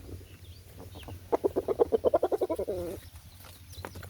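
A rooster gives a close, loud run of rapid rhythmic clucks that speed into a throaty trill and then fade.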